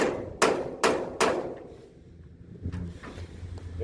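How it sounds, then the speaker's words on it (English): A hammer strikes three times in a steady rhythm on the bed cover fittings of a 1965 Chevy C20 pickup truck, loud sharp metallic cracks close by, followed by quieter handling clatter. "Let me grab a hammer real quick and see if we can set that"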